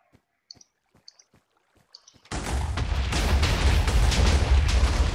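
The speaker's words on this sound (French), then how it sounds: "Je voulais savoir ce que ça faisait de se prendre une explosion incontrôlée sans le prévoir" A video game explosion in an escape-the-puzzle level: a few faint clicks first, then a sudden loud blast that swells into a sustained roaring rumble and lingers to the end.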